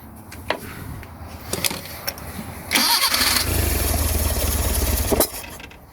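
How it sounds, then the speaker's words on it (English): A long-abandoned Bedford Rascal van's carbureted engine sputters and fires after six years, short cranking bursts giving way to a loud, rough revving run close by. "Just going to try nursing the throttle a bit and just keep winding this idle speed up a little bit."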